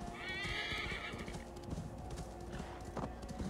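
Horses neighing with galloping hoofbeats in the video game Assassin's Creed Valhalla, a shrill whinny near the start over steady clip-clop and busy game sound, with no talk.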